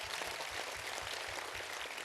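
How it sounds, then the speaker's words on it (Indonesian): Audience applause at a Cak Nun and Kiai Kanjeng tadabburan gathering in Pekalongan: dense, steady clapping that fills the whole moment with no voices over it. "Tepuk tangan untuk Anda"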